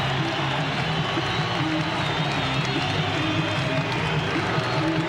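Basketball arena crowd on its feet at the Salt Palace during a Celtics at Jazz NBA game in 1991, a loud continuous roar of cheering and clapping that fills the space without a break.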